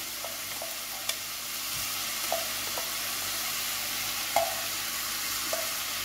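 Lemon-marinated shrimp, seasoned with a little fish sauce, sizzle steadily in a hot pan for a Chinese shrimp noodle dish, a constant frying hiss broken by a few soft pops and clinks, with no talking.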